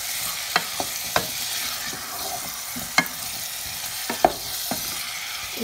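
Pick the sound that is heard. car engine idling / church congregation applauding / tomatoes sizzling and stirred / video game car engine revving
tomatoes sizzling and stirred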